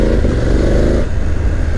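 A BMW F900 GS motorcycle on stock standard exhaust while riding, giving a loud, steady engine drone with rumble and wind, heard close from the rider's position.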